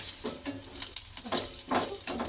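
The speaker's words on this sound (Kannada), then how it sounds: "ಈಗ ಇದನ್ನು ಸ್ವಲ್ಪ ಎಲ್ಲ ಫ್ರೈ ಮಾಡ್ಕೊಳ್ಳೋಣ" Cauliflower pieces for Gobi Manchurian fry in a pan, giving a steady sizzle broken by scraping stirs and light utensil clinks, close and fairly loud.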